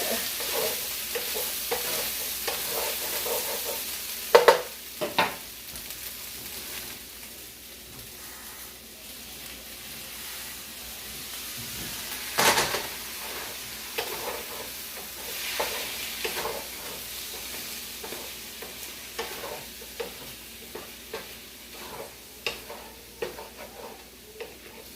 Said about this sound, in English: I put just a little bit of liquid in there to deglaze the bottom of the pan a little bit.